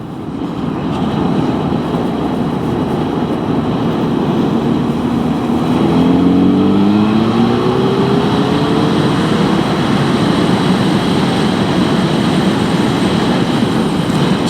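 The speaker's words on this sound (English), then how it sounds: "we roll a bit more of the gas on, or even a lot more of the throttle on, and increase the speed of the bike through the corner" A motorcycle engine rises in pitch as the throttle opens through a corner, partly buried under loud, constant wind rush.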